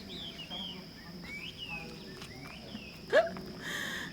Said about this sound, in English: Leave these birds alone before they chase me down.